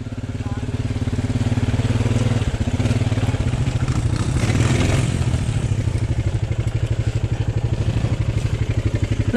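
Two ATVs, a Can-Am Renegade and a Honda Recon, churn through thick mud with a loud, rapid chugging engine rumble and clattering throughout, the motor surging and straining continuously up close.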